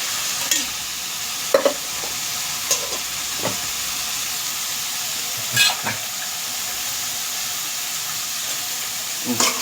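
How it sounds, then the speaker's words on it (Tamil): Brinjal gravy sizzles in oil in a pan, with a steady soft fry hiss and scattered scraping stirs of a spoon, close and fairly quiet, without talk. "இதை நல்லா கிளறி விடுங்க."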